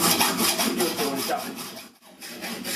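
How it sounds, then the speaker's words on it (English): Hacksaw cutting through metal stock on a machine bed, close rhythmic back-and-forth rasping strokes with a short break before sawing resumes. "And if you do go through with a hacksaw"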